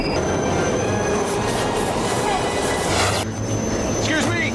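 A subway train rumbles and clatters loudly in a scene from Die Hard with a Vengeance, wheels squealing in rising metallic whines, while people talk over the din.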